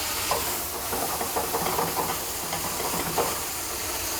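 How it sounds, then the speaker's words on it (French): Apples and foie gras flambéed with Armagnac in a hot pan give a steady, close hiss and sizzle, with faint clinks and stirring sounds rising over it. "nous allons le flamber à l'armagnac"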